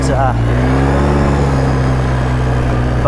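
A 2012 Polaris Sportsman 800 EFI ATV engine runs steadily at a low, throaty idle, then rises slightly near the end, loud and close.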